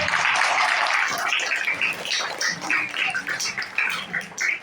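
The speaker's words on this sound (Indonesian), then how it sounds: "Tepuk tangan semuanya bagi kita." Applause from a crowd of students at a religious gathering for Santri Day, dense clapping that breaks into scattered, uneven claps as it dies down.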